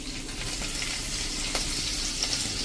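Chopped ginger and green chillies hitting hot oil with a pinch of asafoetida for a Gujarati dhokli curry, a loud, dense, continuous sizzle heard close up, with a few faint clinks and no voices.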